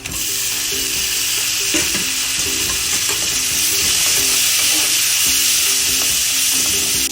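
Tomatoes with asafoetida and curry powder sizzle loudly in a hot pan for brinjal bharta, a dense continuous crackle with occasional clinks and scrapes of stirring, no talking.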